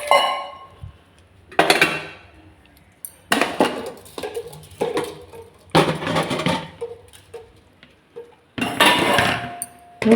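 Dishes, pots, a milk-boiling vessel and utensils being washed and scrubbed, with irregular metallic clinks, clanks and scraping in bursts, fairly close.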